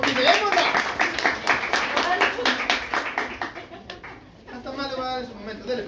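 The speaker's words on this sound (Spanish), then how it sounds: "Un aplauso para Emily, ¡motivémosla!" Students in a civil procedure law class clap for a classmate, quick uneven handclaps close by, tapering off, with talk and a chuckle around them.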